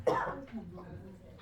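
A man clears his throat with a short, harsh cough, close and fairly quiet, followed by a brief faint rasp.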